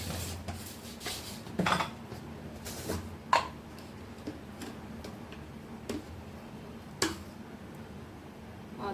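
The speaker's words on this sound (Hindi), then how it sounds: "इसमें डालूंगी 2 चम्मच शक्कर।" Kitchen utensils clink during cooking, a spoon tapping and scraping as two spoonfuls of sugar go in: a few sharp, close clicks and knocks scattered over quiet background clatter, with no talking.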